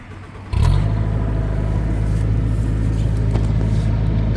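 An Altec spider lift engine cranks and catches abruptly after a brief quiet moment, then settles into a steady, close, loud low rumble of idling with no talking.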